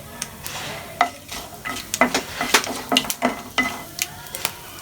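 Whole spices (bay leaf, cinnamon, star anise, cardamom, cloves) frying in oil in a pan for spicy chilli chapathi, a soft sizzle punctuated by close, irregular stirring scrapes and clicks.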